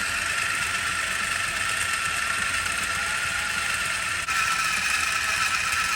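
The electric motor of a Tamiya Holiday Buggy RC car runs at a steady idle to break in its brushes. A constant high, buzzing whine holds unbroken for six seconds, close and loud, with one brief dip near the end.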